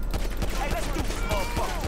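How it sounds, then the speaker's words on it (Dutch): Rapid gunfire in a video game cracks out in a steady, evenly spaced burst over a constant low hum, loud and close. "Je ziet al die auto's echt zeg maar alle kanten op gaan zodra ze van die kogels schoten horen."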